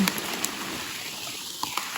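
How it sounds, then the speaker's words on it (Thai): Rain falling in a forest during mushroom foraging, a steady soft patter of drops on leaves and ground with a few sharper nearby drips, fairly quiet and continuous. "ฝนกระตก"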